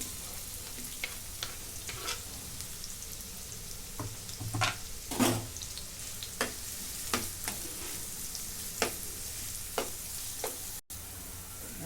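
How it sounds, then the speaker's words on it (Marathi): Two finely chopped onions fry in two spoons of oil in a pan, giving a continuous sizzle with periodic scraping strokes of a spoon against the metal, close and unvoiced. "कांदा चांगला तांबूस रंगावरती मी भाजून घेतला"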